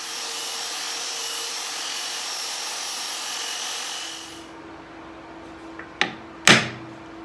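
A power sander roughly sanding a wooden shelf whirs steadily for about four seconds, then cuts out, leaving a faint hum and two sharp knocks.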